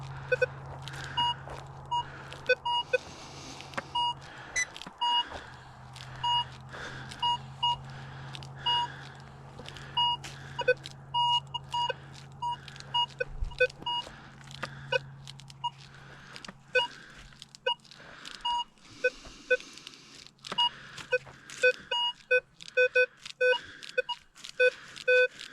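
Two metal detectors, a Minelab Vanquish 440 and a Nokta Makro Simplex, sweep ground in turn, giving repeated short electronic beeps and tones at irregular intervals over a low steady hum, with no talking.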